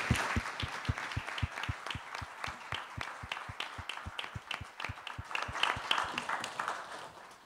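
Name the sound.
audience applauding the panelists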